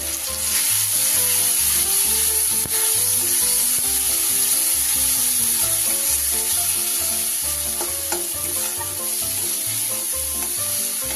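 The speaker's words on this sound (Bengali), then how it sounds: "এবার আমি গুঁড়ো মশলার পেস্টটা দিয়ে দিলাম" Ground spice paste sizzles in a pan on low heat for tengra fish curry, a steady sizzle under stirring scrapes with a high whine and a music bed throughout, and no talking.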